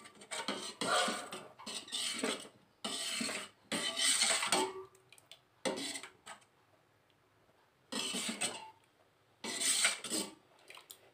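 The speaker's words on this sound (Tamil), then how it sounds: "கை விடாமல் கிளறி விட்டுகிட்டே இருக்கணும்" Wheat payasam being stirred in a pot, a ladle scraping and clinking against the metal in repeated bursts of a second or two with short pauses between, close and fairly loud, no talking.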